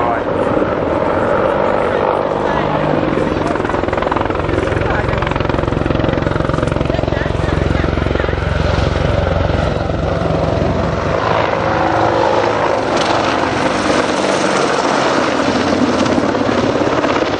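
An Army Air Corps Apache attack helicopter flies past at the 2012 Air Tattoo air show, its loud, steady rotor and engine roar filling the whole stretch with no break.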